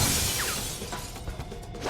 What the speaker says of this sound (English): I love how the jail has vulnerable glass.